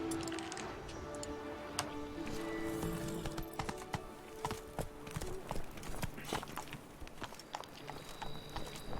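Roach the horse's hooves clatter in a galloping clip-clop rhythm in The Witcher 3, mid-distance, set among game music and ambient effects, with sharp transient hits toward the end.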